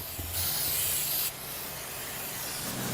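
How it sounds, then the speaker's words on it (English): An aerosol spray can puts out marker paint on cables, likely during an underwater salvage dive on the sunken carrier USS Oriskany; one steady close hiss runs for about a second, then fades to a low rushing background. "I'll go ahead and spray this."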